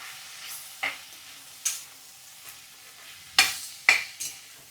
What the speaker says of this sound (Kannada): ಸ್ವಲ್ಪ ಸಾಂಬಾರು ಪುಡಿ ಇಷ್ಟನ್ನು ಹಾಕಿದ್ಮೇಲೆ ಚೆನ್ನಾಗಿ ಒಂದು ಸ್ವಲ್ಪ ಹಿಂಗೆ ಗೂರಾಡ್ರಿ